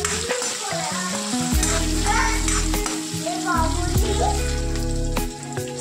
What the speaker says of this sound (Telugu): సిమ్లోనే పెట్టి వేయించుకోవాలి